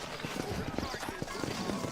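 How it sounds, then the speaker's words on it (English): Horse hooves clip-clopping at a steady trot in the video game Red Dead Redemption, a rapid continuous beat under game dialogue and ambient sound. "You ain't gonna find sturdier horses than these in all of New Ulm."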